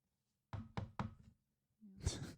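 Three quick knocks on wood in an even rhythm, crisp and close, followed after a short pause by a brief rustling thump.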